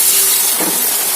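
Food dropped into hot oil in a frying pan, giving a loud, steady, close-up hiss and crackle that fills the short moment with no voices.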